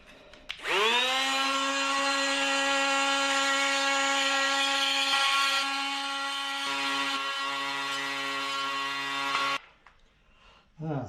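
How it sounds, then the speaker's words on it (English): A high-pitched rotary power tool shaves powder coating out of the dropouts of a Stealth B52R e-bike frame. It spins up to a steady whine, holds for about nine seconds with slight pitch dips under load, then cuts off abruptly. "I've just got to shave out that powder coating layer and just make that axle a snug fit into the dropouts"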